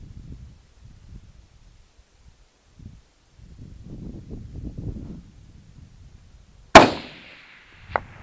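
AR-15 rifle fired at 300 yards, a single sharp loud crack followed by a fainter report a second later, after quiet rustling and wind noise at an outdoor range.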